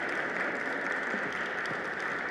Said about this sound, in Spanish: también un aplauso para ella